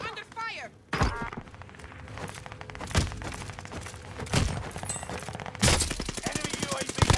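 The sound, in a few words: gunfire in the video game Call of Duty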